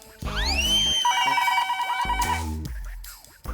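A telephone rings close by in a TV comedy scene, a bright electronic ringtone with sweeping warbling tones, ringing continuously for a few seconds with no one talking.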